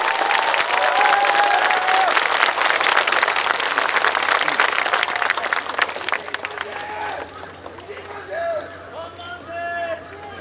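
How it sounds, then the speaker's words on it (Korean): A crowd at a memorial ceremony for the fifth anniversary of the death of former president Roh Moo-hyun breaks into loud, sustained applause for the speaker, tapering off after about six seconds as a voice begins. "여러분 뜨거운 박수로 맞아주시기 바랍니다."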